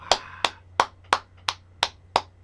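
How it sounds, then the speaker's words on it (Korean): Hands clap for a good billiards shot, eight sharp, evenly paced claps in quick succession, close and crisp with no talking. "박수. 이거 박수예요."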